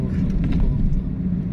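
Steady low rumble of a car moving in road traffic in Calasiao, Pangasinan, Philippines, heard close from inside a vehicle for a brief moment.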